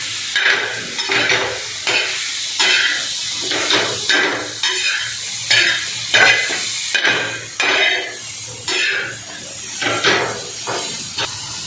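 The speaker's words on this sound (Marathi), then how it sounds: "हे सगळं आपण व्यवस्थित खोबरं आणि साजूक मसाला भाजून घ्यायचा" Coconut and masala roasting in a pan, stirred steadily, giving loud repeated scraping strokes over a continuous dry sizzle and hiss.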